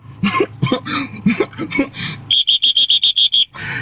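A person whistles a rapid series of about eight short, sharp, evenly spaced high blasts, loud and close, right after a stretch of speech.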